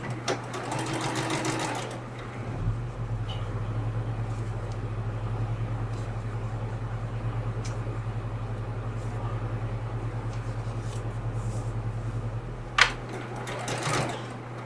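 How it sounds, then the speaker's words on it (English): A sewing machine stitches paper-pieced quilt blocks, starting after a couple of seconds with a steady, even motor whir that runs for about ten seconds and then stops, close by, with faint handling sounds before and after. "I'm going to bring this right on over to the sewing machine"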